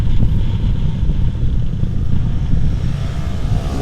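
A new motorcycle's engine drones steadily during a ride, a loud low rumble mixed with wind buffeting and road noise, with no clear rise or fall in revs.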